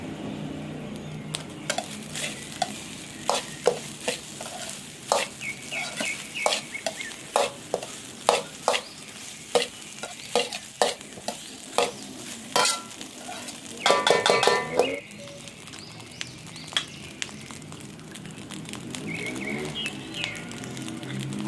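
Seasoned mixture with pepper powder, salt, homemade natural flavouring and a little sugar being stirred in a pan, bursts of scraping and clinking utensil strokes repeating irregularly, with a louder rattling flurry partway through.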